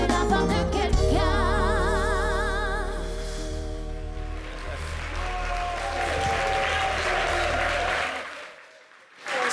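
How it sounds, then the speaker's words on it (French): Applause from a studio audience on a romance-themed TV show, a broad wash of clapping mixed with music and sustained tones that fades out near the end. "merci de l'applaudir"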